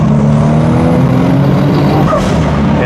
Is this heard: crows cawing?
no